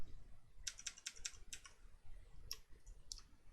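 Arrow keys on a computer keyboard click in a quick run of five taps, then two more spaced presses, crisp and close over a faint steady room hiss.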